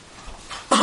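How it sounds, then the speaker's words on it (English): A woman gives a single short, sharp cough near the end, loud and close, after a quiet moment in a tabletop role-playing game session recorded for a podcast. "Feminine cough."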